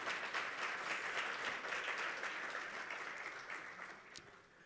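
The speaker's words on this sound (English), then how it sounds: "Was that all you could come up with in terms of a round of applause for Mr." A round of applause for Mr. Nishila from a conference audience at a green hydrogen event in Namibia, a dense steady wash of clapping that gradually thins and fades toward the end.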